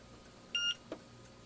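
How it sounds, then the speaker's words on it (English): A single short electronic beep from an Aldi Adventuridge cooler sounds, faint and thin, followed by a soft click in an otherwise quiet room. "What's with the weak beep?"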